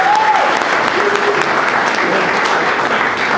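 Loud, steady applause from an audience at a Calgary Skyview candidates' debate forum, dense clapping filling the whole stretch with no pauses.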